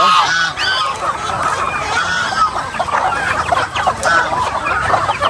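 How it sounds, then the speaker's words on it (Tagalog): A crowded backyard farm flock of mixed-breed chickens and geese fills the air with overlapping clucks, squawks and honking calls, busy and close throughout with no clear speech. "Halo-halo yan, manok, gansa, abo."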